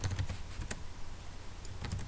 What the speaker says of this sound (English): I'm typing CodeBlocks and I'm going to hit enter